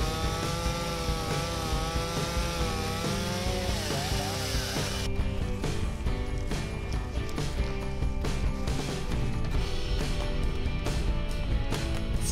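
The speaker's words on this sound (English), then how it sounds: "my chainsaw starts, but my chain will not move" Chainsaw engine running steadily and loudly with its chain free to move after the chain brake is released, a continuous buzzing drone with slight revving throughout.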